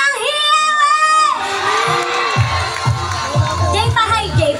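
A concert crowd at a fiesta show cheers and shouts loudly, high excited voices and whoops rising together with rhythmic clapping-like thumps, mixed with the hubbub of many people.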